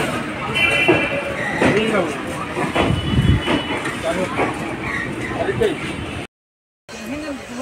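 Passenger train running between Sainthia Junction and Rampurhat Junction in India, a steady loud rumble and rattle with clanking wagon noise throughout, faint voices mixed in, and a short silent gap near the end.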